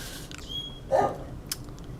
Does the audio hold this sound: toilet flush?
no